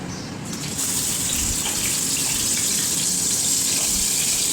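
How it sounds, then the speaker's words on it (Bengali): Fish heads coated in salt and turmeric fry in hot oil, making a loud, steady, close sizzle with a dense spattering hiss throughout. "মাছের মাথা তেলে দিলেই খুব ছিটকোয়"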